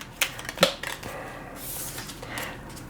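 Mini tarot cards being shuffled by hand, a few crisp taps and riffling flutters up close, followed by a soft brushing swish, with no voices.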